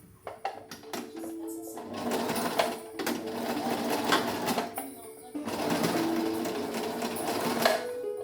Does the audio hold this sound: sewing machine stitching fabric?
yes